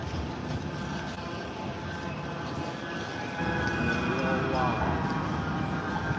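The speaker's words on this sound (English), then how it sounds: "there's a tram coming" A tram rumbles past nearby in Manchester, a steady low mechanical roar with a squealing wheel tone, growing louder in the second half.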